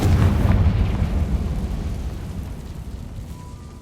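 A Confringo explosion spell in the video game Hogwarts Legacy bursts with a loud low boom that rumbles and slowly fades over a few seconds.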